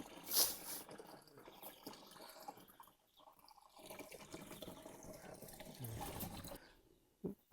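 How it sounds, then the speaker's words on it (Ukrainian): Water runs from a tank into a backpack sprayer for treating potato beetles in hot weather, a steady splashing fill flowing on for several seconds with a brief louder gush near the start. "зараз ми з куба наберемо води і підемо крупити"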